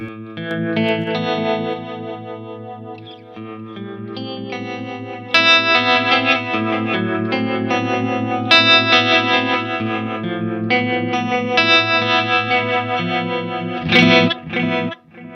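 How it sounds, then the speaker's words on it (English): An electric guitar runs through a Strymon Mobius tremolo effect. Sustained, heavily processed chords and notes pulse and shimmer at a loud, steady level, played alone with no talking. "Here's the trem on the Mobius."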